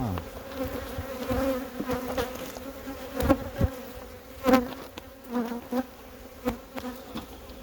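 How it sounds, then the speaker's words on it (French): Aggressive bees buzz steadily and close around a beehive, a dense humming drone with a few louder swells as insects pass near. "ces abeilles agressives là"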